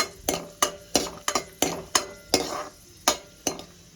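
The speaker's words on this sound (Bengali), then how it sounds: "শুকনো লঙ্কাটা একটু ভেজে নেব" Dried red chilies frying in hot oil for a tempering while being stirred, about a dozen sharp rhythmic spoon scrapes and clinks against the pan over a faint sizzle, close and fairly loud.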